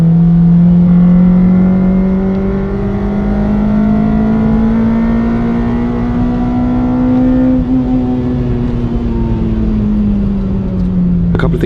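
A Honda Civic Type R EP3 engine revs hard on a race track, a loud in-car howl that climbs steadily in pitch, eases briefly and then falls back as the car lifts off.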